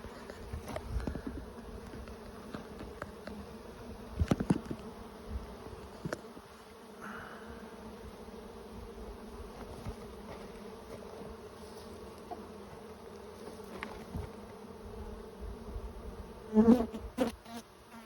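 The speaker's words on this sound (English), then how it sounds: "There's a ton of bees out." Honey bees drone in a steady, dense buzz around an open brood box being expanded with a second deep, with occasional louder passes close by and faint clicks of frames being handled.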